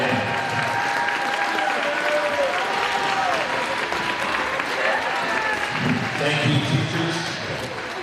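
Audience applause in the stands of an ice arena at a high school boys' hockey game, sustained clapping and crowd noise with a voice carrying over the top throughout.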